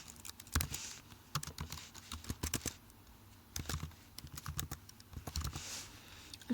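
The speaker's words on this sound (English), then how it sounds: "I'm typing very slow because I don't have a QWERTY keyboard" Slow, irregular clicking of keys on a non-QWERTY computer keyboard, quiet and close, with bursts of taps separated by short pauses.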